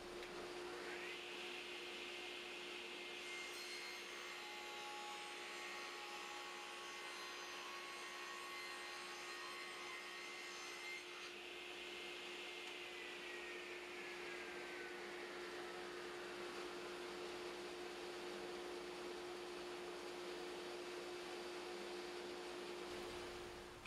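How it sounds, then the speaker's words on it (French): A battery-powered sander works over wooden drawer pieces, a steady whining motor hum that rises in pitch early on and shifts partway through, continuing alone without speech. "Je vais pouvoir sabler mes morceaux et les coller ensuite."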